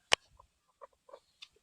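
Coucou de Marans hen, a small bantam cross with black-on-white speckled plumage, giving one sharp loud squawk followed by a few soft, scattered clucks close by.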